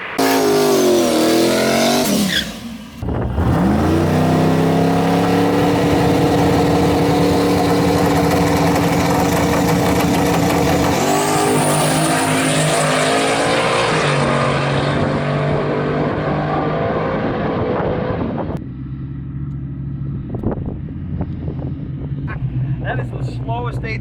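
A race car launches down an eighth-mile drag strip, its engine roaring loud and close, dipping briefly early on, then holding a dense, sustained howl before cutting back to a lower rumble near the end.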